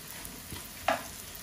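Rohu fish roe fries in a pan with a soft, steady sizzle and one brief sharper crackle partway through, with no voices.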